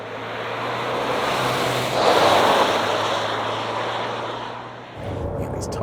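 A Ford Ranger PHEV pickup on all-terrain tyres accelerates hard off-road with a steady, loud engine and drivetrain roar. The roar swells around the midpoint, then drops away near the end.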